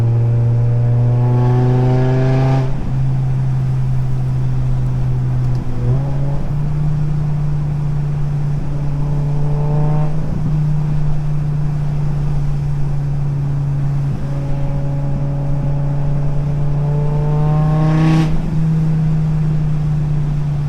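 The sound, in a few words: BMW M5 E60 V10 exhaust driving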